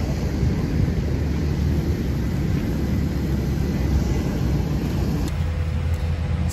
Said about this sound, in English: we're in the airplane to London